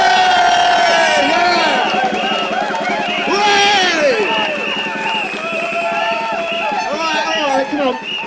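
A large crowd at an anti-racist rally in Middlesbrough in June 2014 cheers, whoops and shouts loudly and continuously, a dense wall of voices that may include applause.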